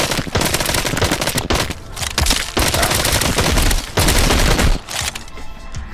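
Rapid gunfire from the VR zombie shooter Arizona Sunshine crackles loudly in dense bursts, with brief pauses between volleys and echoing booms, without voices.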